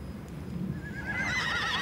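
Horses in a herd neigh in evening fog, starting low and muffled, then a loud, near whinny rises and quavers over the ongoing murmur of the group.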